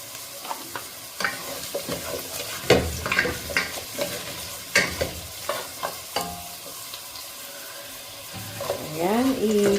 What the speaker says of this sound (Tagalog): mas maganda i-brown muna ang inyong patatas